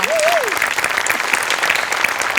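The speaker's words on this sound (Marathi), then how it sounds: "या स्पिरिटसाठी टाळ्या." A theatre audience claps loudly and steadily for a Marathi comedy sketch on stage. Dense applause fills the whole stretch, with a brief whistle-like tone near the start.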